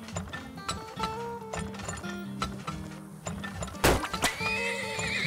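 In the video game Turmoil, a horse whinnies loudly while hooves clip-clop in a steady rhythm, with mechanical game effects and background music underneath.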